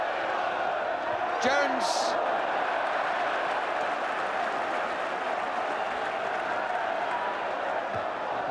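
Football crowd at Arsenal versus Nottingham Forest, an FA Cup quarter final in 1987/88, applauding and cheering after a goal, a broad sustained roar of applause with a commentator speaking over it.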